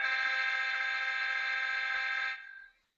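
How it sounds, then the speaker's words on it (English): Locomotive horn from a model train sound decoder sounds a single steady, buzzy blast for over two seconds, then drops and cuts off, heard alone. "And the horn's kind of mediocre."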